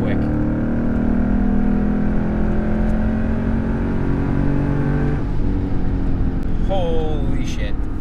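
A Lexus IS-F sports sedan accelerates hard from inside the cabin, its loud engine note rising steadily, then shifting and climbing again with a sharp high whine near the end, with a person talking over it.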